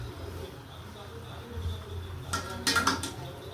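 Chicken pieces for Telangana-style gongura chicken are stirred in a metal pot over a low background hum, with a cluster of sharp clattering scrapes near the end.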